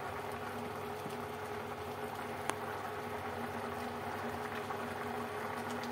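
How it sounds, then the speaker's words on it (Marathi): Chicken curry made with few spices bubbles steadily in a pot, a soft continuous simmering hiss with a faint low hum, close and fairly quiet, with a single brief click partway through and no voices. "छानपैकी त्याला उकळी फुटत आहे"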